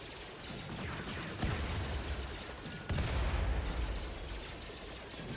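Rapid, continuous gunfire from a minigun in the video game RimWorld, in a Star Wars clones versus droids battle, a dense rattling barrage with heavier bursts swelling at intervals, loud and steady with no talk.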